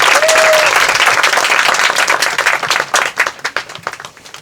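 An audience at a book concert breaks into warm applause, a dense burst of clapping that thins into scattered, individual claps as it fades.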